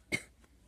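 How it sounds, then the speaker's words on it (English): A single sharp cough from someone with a sore throat, close and fairly loud, followed by a faint breathy after-sound and then quiet. "sorry about that, coughing"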